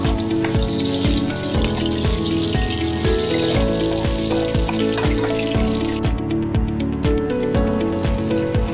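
Ginger and onion sautéing in hot oil in a pan for chicken arroz caldo, a loud, steady sizzle and crackle running alone throughout, with faint rhythmic tapping over it.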